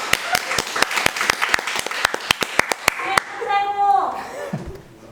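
A group of students claps in rapid, even rhythm for about three seconds, sharp and close, followed by a short tonal sound and then quiet.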